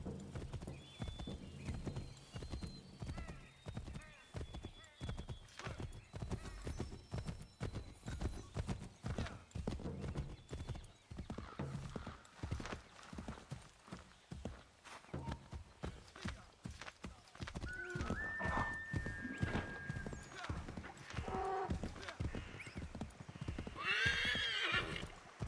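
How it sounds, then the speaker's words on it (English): Horse hooves clip-clopping at a gallop with whinnies and neighs in Assassin's Creed 3 Remastered, steady hoofbeats running through the whole stretch amid game sound effects, fairly loud and close. "Get out of the fucking way, horse."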